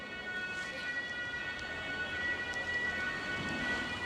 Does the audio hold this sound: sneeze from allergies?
no